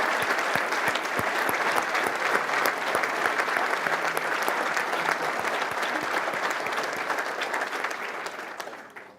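An audience at a university Order of the Engineer ceremony applauds graduate engineering students, sustained, dense clapping in a hall that holds steady for several seconds before tapering off.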